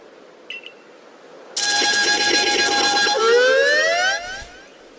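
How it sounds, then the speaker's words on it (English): A Kricketune Pokémon cry from a video game rings out loud and alone, a bright, reedy, siren-like wail of stacked tones that holds for a couple of seconds, then slides upward before cutting off, after a brief faint chirp. "We love Cricketune cry"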